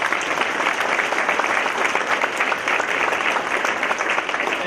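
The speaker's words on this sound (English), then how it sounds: "could we just give them a quick round of applause?" A room of community-center attendees applauds, giving a dense, even burst of clapping that stays loud and steady throughout, with no talk over it.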